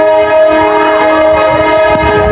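A Uganda Railway Corporation train sounds a loud, sustained multi-tone horn at the station, steady and close, with rumbling rail noise beneath and no talk.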